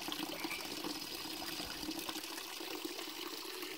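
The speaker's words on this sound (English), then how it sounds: "And waterfalls along the way." Steady rushing water from a waterfall in a stream bed fills the clip, a constant broad roar, fairly close and unbroken throughout.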